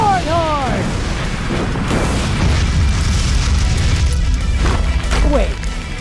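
A Fire Dragon Sword Horn attack from an anime fight erupts in loud, continuous booming explosions lasting several seconds, with voices heard under the blasts.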